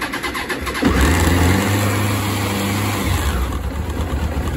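A Suzuki RF900R motorcycle engine, freshly swapped in, cranks and fires up after about a second, then settles into a loud, close, uneven idle with a steady low rumble.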